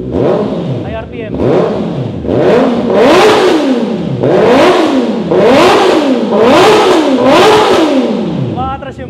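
A Honda CB650R motorcycle engine is revved hard to high RPM again and again nearby, each loud rising snarl dropping back before the next, with a voice talking over parts of it.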